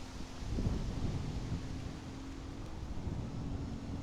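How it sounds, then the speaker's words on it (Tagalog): Strong wind buffets the microphone during an outdoor DJI Neo 2 drone test flight, a low rumbling roar that surges early then settles into steady gusty noise, with a faint thin drone hum riding through. "Ang lakas ng hangin."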